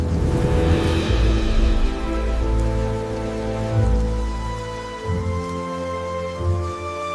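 Rain falls steadily in an animated nature scene, a continuous, fairly loud wash of sound over a strong low rumble, with no talking.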